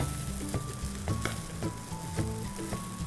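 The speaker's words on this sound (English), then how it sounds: "What I'm going to do is, I'm going to just toss everything. It's nice if you use your tongs because it mixes in really well." Cauliflower and fried noodles sizzle steadily in a pan while tongs toss them, giving repeated rhythmic clacks and stirring sounds over the constant frying hiss.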